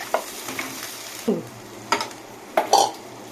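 Water poured into a pan of deeply fried onions sets off short bursts of hissing sizzle among scraping and stirring knocks, close up, with no talk.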